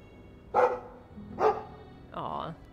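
A Mabari war dog from the video game Dragon Age 2 gives three separate barks at an even pace, the last longer and more drawn out, with quiet game sound underneath.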